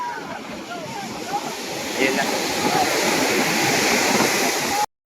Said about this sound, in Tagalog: Naglalakihan naman talaga ang mga alon, mga kaparski, oh.